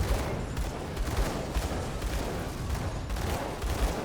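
Rapid gunfire in a fantasy action game as a character shoots Aether Crystals, a dense, steady barrage of overlapping shots with game effects mixed in and no talking.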